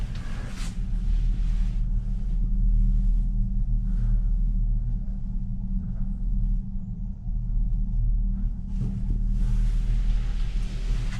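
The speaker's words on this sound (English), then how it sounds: "now the wind is blowing" Wind roaring past a cable car high above Quito at around 13,000 feet: a steady, loud low rumble and buffeting that runs the whole time, with brief gusty bursts.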